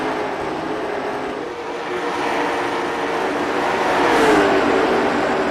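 Late Model race cars at speed in a pavement series race at Five Flags Speedway, a continuous loud engine roar that swells slightly near the end as cars pass close by.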